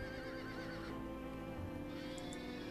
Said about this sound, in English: I must calm these devilish horses